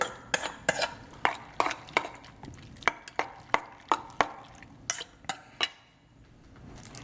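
Egg white and baby shrimp being mixed in a bowl, with quick, sharp clinks of a utensil against the bowl repeating in an uneven rhythm, close and moderately loud, then a short pause and a few more taps.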